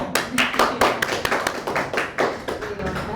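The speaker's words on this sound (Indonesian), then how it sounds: "Tepuk tangan semuanya dong" Audience applause in a podcast studio, a steady round of many hands clapping close by, continuous and fairly loud for the whole stretch.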